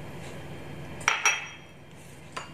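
A spoon clinks and scrapes against a bowl while mashed fermented cassava tape is mixed with salt and sugar, with two close sharp clinks followed by a quieter tap in a quiet room.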